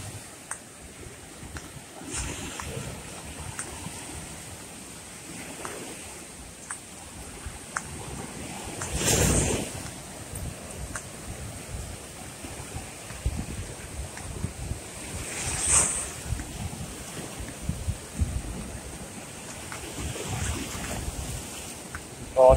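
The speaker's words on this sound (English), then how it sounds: "The Hastings Beach here on the south coast of Barbados" Surf washes onto Hastings Beach on the south coast of Barbados, a steady roar of breaking waves mixed with gusty wind buffeting the microphone along a seaside boardwalk, with no speech.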